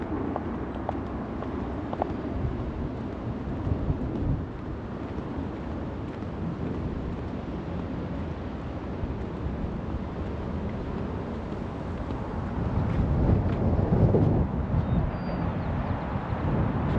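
Steady wind roars across the microphone on the Golden Gate Bridge in San Francisco, a constant broadband rush that swells louder toward the end, with no speech heard.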